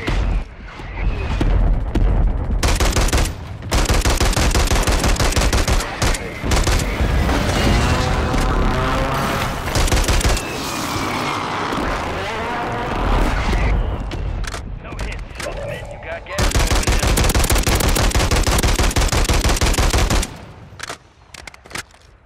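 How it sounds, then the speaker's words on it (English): Mortar strike explosions and rapid automatic gunfire erupt in Warzone 3, loud bursts of blasts and rattling shots in several long volleys separated by brief quiet gaps, with a player's voice speaking intermittently over the chaos. "Mortar strike for extra effect."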